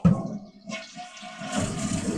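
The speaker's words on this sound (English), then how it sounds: "I'm going to flush the toilet." A bathroom toilet is flushed while the plumbing is being winterized, giving a close rushing swirl of water that drains and then refills steadily, with no talking.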